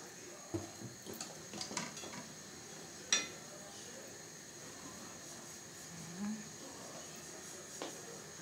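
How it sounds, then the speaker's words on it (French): A frying pan for cooking crêpes clanks down on a stovetop with one sharp metallic knock among lighter scattered clinks and taps of kitchenware. The sounds are fairly quiet, and a voice talks faintly nearby. "Voilà, on met bien la poêle"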